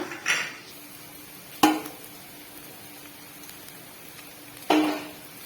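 A spoon strikes the side of a bowl in three distinct clinks while chicken cutlet mixture is stirred. The clinks are close and spaced out, with quiet scraping between them.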